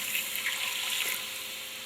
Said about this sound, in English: now we can add our water.